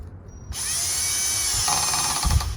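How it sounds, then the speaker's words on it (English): A power drill runs continuously at a high, steady whine while tightening hardware on a new satellite dish stand. It starts abruptly after a brief quiet moment and shifts slightly in pitch partway through. "See if maybe the drill will do a better job."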